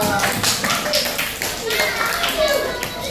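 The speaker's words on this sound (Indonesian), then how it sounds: "dan tepuk tangan dong" Schoolchildren in a classroom clap their hands in a quick burst of scattered claps, with children's voices and chatter mixed in close by.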